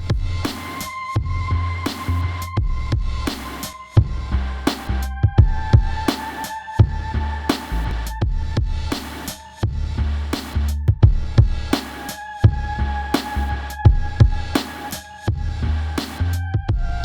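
Drum machine beat from an Elektron Digitakt, a steady looping pattern of punchy kicks and sharp hits with a sustained tonal layer, loud and alone.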